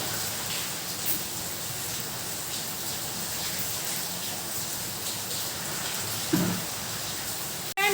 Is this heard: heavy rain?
yes